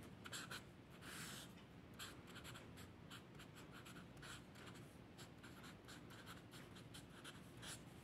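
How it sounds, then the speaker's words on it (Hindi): Pen scratching on paper at close range as a math question is written out by hand, quiet continuous strokes with sharper taps and scrapes, no talking. "यहाँ पर हम एक्चुअल अपना क्वेश्चन लिखेंगे"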